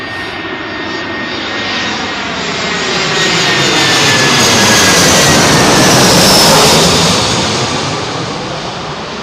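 A jet airliner passes low overhead while arriving at London Heathrow's runway 27L at sunset, a loud, continuous roar and whine that swells to a peak and slowly eases, heard alone.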